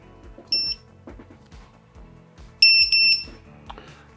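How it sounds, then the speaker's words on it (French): Standalone lost-model buzzer on a homemade FPV drone beeping after the battery is unplugged: loud, shrill electronic chirps in short bursts, one early and a double burst later, over quieter clicking handling noises. "le buzzer autonome fonctionne très bien"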